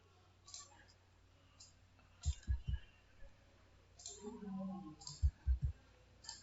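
A computer mouse clicks a few times in quick pairs during an online quiz demonstration, with soft, dull taps heard between stretches of a person talking.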